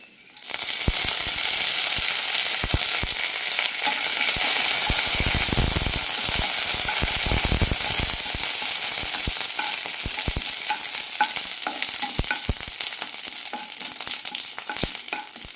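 Curry leaves and red chillies sizzling in a teaspoon of hot oil with popped mustard seeds, a loud steady frying roar that bursts up near the start and holds, scattered with sharp crackles and spoon scrapes.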